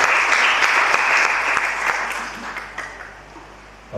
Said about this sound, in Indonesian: Mari berikan tepuk tangan buat Maria